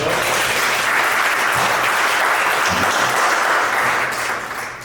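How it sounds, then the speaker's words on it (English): A room full of people at a Chicago divorce support group event claps loudly and steadily for nearly five seconds before the applause starts to fade at the end. "give yourself a big applaud for coming today"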